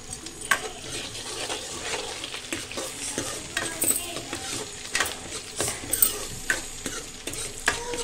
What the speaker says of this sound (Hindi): तो ये जीरा डाल दिया मैंने तेल में, प्याज लहसुन है ये